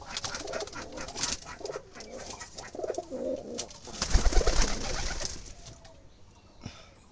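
Colourful red-eyed pigeons coo repeatedly in a loft, with soft, throaty, overlapping calls and some fluttering and rustling, fairly close and without talk, fading toward the end.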